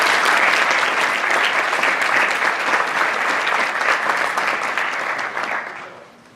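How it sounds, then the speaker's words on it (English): A high school awards night audience breaks into sustained applause for the Sophomore Athlete of the Year, with dense, loud clapping across the room that holds steady before fading out near the end. "Let's give another round of applause for this year's Sophomore Athlete of the Year, Taylor Hodney."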